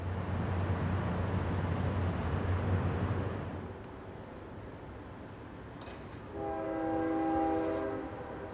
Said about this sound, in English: Another ES44 AC GEVO on another northbound manifest, this time harnessed with Norfolk Southern C40-8W, number 8376.